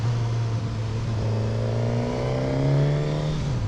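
A 2021 Suzuki GSX-S1000 naked motorcycle engine accelerating on the road, a loud steady drone with the pitch climbing as it pulls through the gear, heard up close under wind noise.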